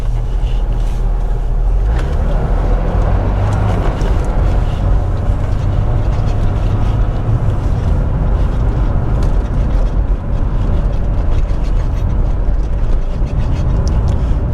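A Mercedes-Benz W123 280E is heard from inside while driving, with a loud, steady engine and road rumble droning without pause.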